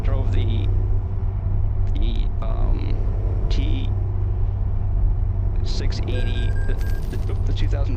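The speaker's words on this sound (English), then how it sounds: "Yeah, the truck sounds great." Engine of a 2014 Kenworth T680 truck in a truck-driving video game, a constant low rumbling drone throughout with small clicks and beeps, while someone talks over it.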